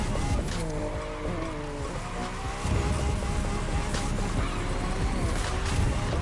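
A hypercar drifting in The Crew 2, its engine roaring steadily with tire squeal and skidding rising over it, loud and close, getting busier partway through.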